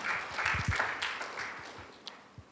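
Applause from a church congregation during a Sunday worship service, scattered claps forming a soft patter that is moderately distant and fades gradually, with a few louder isolated claps near the end.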